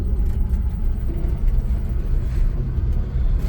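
A Vanderhall Brawley drives back and forth several times, giving a steady, loud engine rumble and road noise close by without a break.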